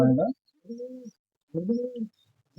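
An old pigeon brooding three eggs gives low, soft coos in two separate bursts with quiet gaps between, close by.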